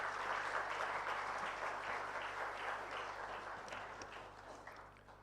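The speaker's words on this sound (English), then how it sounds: "Please, a big round of applause" An audience at the Think20 India Summit applauds the launch of the T20 communique with a sustained wash of clapping from a large crowd, a low hum beneath it, easing gradually toward the end.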